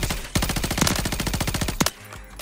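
Rapid automatic gunfire in Call of Duty: Modern Warfare III, a loud sustained burst of evenly spaced shots lasting about a second and a half, ending abruptly, with no talk over it.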